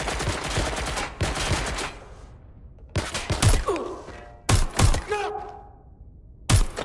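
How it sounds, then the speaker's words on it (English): Bursts of loud gunfire in a cyberpunk London video game, several sharp volleys separated by short gaps, close and punchy, with brief shouted voices between them. "Shots fired!"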